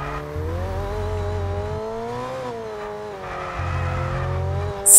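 A Lamborghini in F1 22 Pirelli Hotlaps brakes hard at the Ferrari circuit, the engine note sliding down while the tires squeal and skid, loud and close, ending in a sharp burst.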